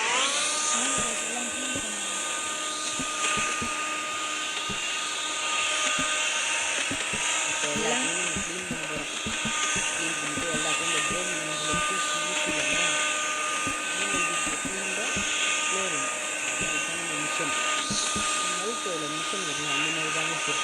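A household vacuum cleaner runs with a continuous, loud whirring drone and a steady pitched whine, while voices talk intermittently over it in a home.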